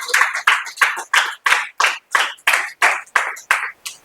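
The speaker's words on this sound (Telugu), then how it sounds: "కొట్టో చప్పట్లో ఒకసారి గట్టిగా" Rhythmic clapping at a Christian sermon gathering, about a dozen sharp, evenly spaced claps at a steady beat, loud and close with no talk over them.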